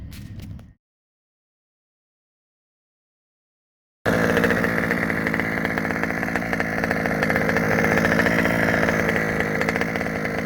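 Small two-stroke engine of a Losi 5B RC car fitted with an Olimat exhaust pipe, revving loudly and steadily after a brief burst and a few seconds of silence, a buzzy chainsaw-like drone holding near and constant.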